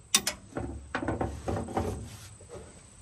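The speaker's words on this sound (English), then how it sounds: "This may be the easiest spark plugs we've ever pulled out of one of these." Ratchet wrench clicking while spark plugs are loosened and pulled from a 1952 Chevy dump truck engine, a burst of short irregular ratcheting clicks and metallic clatter, close and moderately loud.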